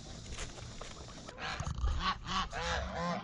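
Geese kept at UNIST honk in a quick burst of repeated nasal calls after a quieter start, several birds sounding close together.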